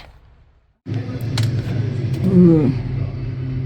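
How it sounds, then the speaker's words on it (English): A dump truck arrives at a Colorado mountain house for a DIY roof shingle job, its engine rumbling in loudly after a brief quiet start and holding a steady low drone, with a short exclamation from a person over it. "Bebo's dump truck"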